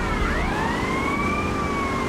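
Police car siren in GTA Vice City, a steady wailing tone sweeping up and down, loud and close over a dense rumble of traffic and game noise, with no talking.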